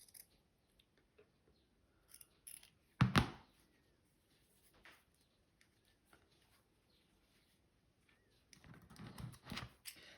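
Scissors snip fabric while trimming a small bunny ear, with scattered quiet cuts, one louder close snip and a short run of rustling snips near the end.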